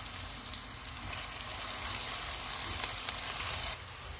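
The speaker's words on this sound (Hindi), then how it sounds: "ऑयल गर्म हो गया, इसमें 2 प्याज डालेंगे। इनको लाइट गोल्डन फ्राई करेंगे।" Onions sizzle steadily in hot oil, a dense, close crackling hiss that swells slightly midway, with no talking.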